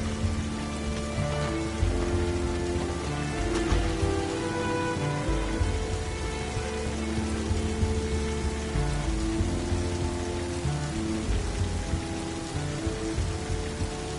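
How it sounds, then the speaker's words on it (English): Steady heavy rain falls without a break in the Unravel video game, a dense and even patter that stays loud throughout, with no voices. "No, it rains as soon as I let go."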